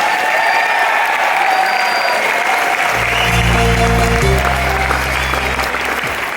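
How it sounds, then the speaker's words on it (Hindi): A crowd at a BBS program motivational talk gives loud applause for Team Force, dense continuous clapping with cheering, while low musical tones swell in underneath midway. "अपनी जबरदस्त टीम फोर्स के लिए एक जोरदार ताली होनी चाहिए"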